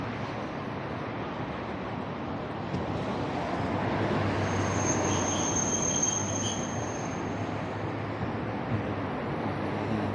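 A small train rolls past in steady, continuous rumble with a high metallic wheel squeal rising in the middle, set against city street noise while walking near a tall building.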